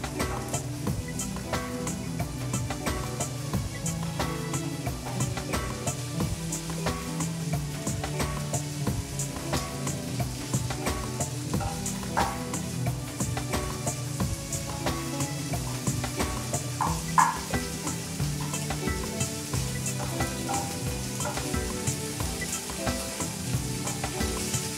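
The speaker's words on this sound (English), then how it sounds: "I'm going to put the mushrooms in. And I'm going to put the peppers as well. And I'm just going to saute them" Mushrooms and peppers sauté in a hot pan, a continuous close sizzle with frequent spatula stirs and scrapes and occasional clicks of utensil on metal, steady throughout with no talking.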